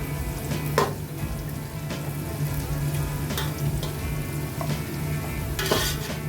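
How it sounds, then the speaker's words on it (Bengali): Cashews lightly fried in oil in a pan, a steady close sizzle under occasional clinks and scrapes of a stirring spoon against the metal. "কাজুটাকে ডিপ ফ্রাই করবো না একটু লাইট ফ্রাই করবো"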